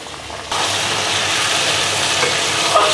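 Onion and chopped garlic frying in plenty of oil, a loud, steady close sizzle that jumps up abruptly after a quieter start and continues unbroken with faint stirring, no voices.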